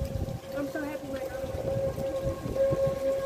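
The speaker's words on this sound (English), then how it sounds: "Can y'all hear the sirens?" Storm warning sirens wail steadily in the distance during a wind storm in Omaha, Nebraska, a sustained tone over gusty wind rumble and background noise.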